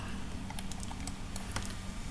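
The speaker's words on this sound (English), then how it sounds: "press delete on the keyboard" Keys on a computer keyboard are pressed several times, giving a few sharp, close clicks over a low steady hum, with no talk.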